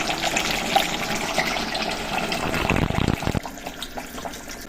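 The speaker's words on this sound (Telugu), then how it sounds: "తగినన్ని నీళ్ళు పోసుకొని" Water is poured into mutton curry in a pressure cooker, a steady splashing gush that runs for about three seconds, ends abruptly and leaves a quieter kitchen background.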